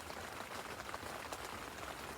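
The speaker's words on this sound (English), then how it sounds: "wait for that rain to ease off a bit" Steady rain falls over a club lake during a carp fishing session in Hertfordshire, a soft even hiss of drops with no voices.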